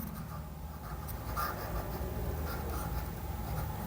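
A pen scratches steadily across paper as maths conditions for a pair of linear equations are written out, a soft continuous scribble with small taps, close and quiet with no speech.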